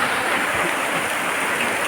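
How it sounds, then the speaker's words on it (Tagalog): Steady rain falls during a bikepacking ride in the Coto mines area, a dense, even hiss with no letup and no voices over it. "inabutan pa kami ng ulan"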